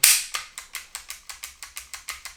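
A Umarex T4E paintball pistol dry-fired with its trigger pulled repeatedly, giving about ten sharp, close mechanical clicks at a steady rhythm after a louder first shot, with no talking.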